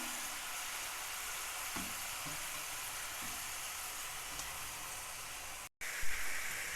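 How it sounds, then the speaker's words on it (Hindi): Chicken pieces frying in ghee in a pan, a steady soft sizzle with a few light stirring scrapes, broken by a brief gap near the end. "इसको भी हमने इसके अंदर फ्राई करना है।"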